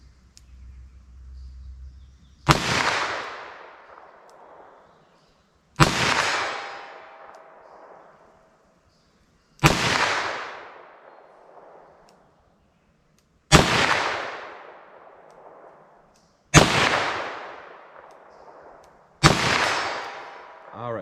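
Six loud, sharp shots from a .327 Federal Magnum revolver crack at range, spaced a few seconds apart. Each blast rings out into a fading echo, with quiet between.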